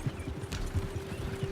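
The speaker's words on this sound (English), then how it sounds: "Horses won't go this fast for long." Horses gallop in Red Dead Redemption 2, a steady rapid drumming of hooves with a low rumbling rhythm throughout, close and continuous with no talking over it.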